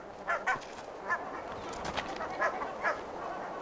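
Geese honk in a scattered series of short calls at moderate distance, some overlapping, over a soft outdoor background.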